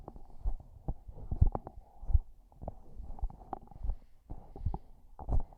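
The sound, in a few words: handling noise on a Peavey PVM 44 microphone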